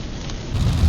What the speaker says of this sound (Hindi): बारिश आने वाली है और अभी बारिश भी आना स्टार्ट हो गई है।